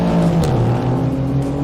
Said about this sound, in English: Oh, the M4 shot off.